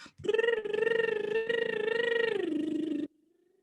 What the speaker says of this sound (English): I'll lip trill the song.